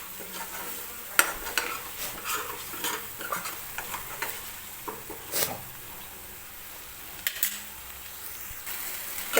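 Masala gravy for mutter paneer roasting in oil in a kadhai, a low sizzle beneath repeated clinks and scrapes of a spoon stirring against the pan, close with no talk.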